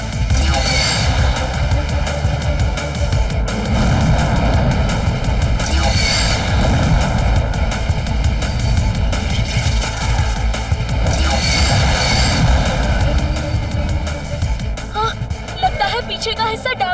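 A cartoon airplane engine drones loud and steady in an animated fight with two fighter jets around a plane, rising and falling in throbbing surges.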